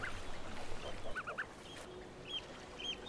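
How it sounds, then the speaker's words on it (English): Eider ducks call faintly among large coastal rock pools, a few short, soft cooing notes scattered over steady wash and background noise. "These eider ducks are making use of the shelter and food the larger rock pools have to offer."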